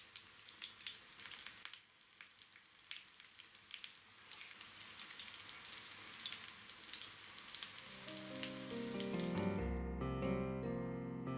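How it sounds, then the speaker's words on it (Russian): A potato appetizer fries in vegetable oil over slightly above-medium heat, a steady close crackle and sizzle, with a faint run of tonal sound creeping in near the end. "Растительное масло разогреваем на огне чуть больше среднего и обжариваем с двух сторон до румяного цвета."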